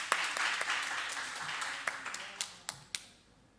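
An audience applauding a finalist at a youth debate competition, a burst of clapping that fades into a few scattered, distinct claps near the end.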